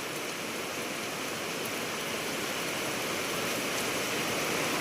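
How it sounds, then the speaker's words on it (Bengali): Heavy rain pouring down in a village beside rice seedbeds, a dense, steady hiss that holds evenly throughout with no voices over it. "আর কি জোরে বৃষ্টি হচ্ছে দেখো"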